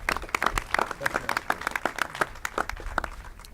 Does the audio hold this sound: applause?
yes